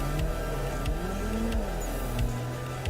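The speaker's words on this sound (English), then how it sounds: "Full throttle up the hill." A car engine at full throttle climbing a hill in the Assetto Corsa racing game, a loud, strained revving drone with rising and falling pitch and brief sharp shift breaks, no voices.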